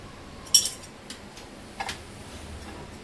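Dried sliced onion dry-roasting in a pan for Vidarbha yesur masala, with a few sharp metallic clinks of a spoon against the pan over a quiet background and no talk.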